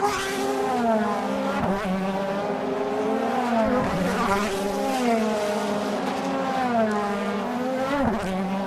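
DTM touring cars race at the Norisring street circuit in 2010, their engines howling continuously as several pass in overlapping waves and the pitch climbs and drops with each gear change. A commentator's voice runs underneath.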